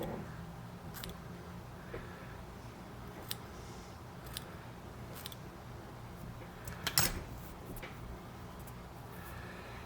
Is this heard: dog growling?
no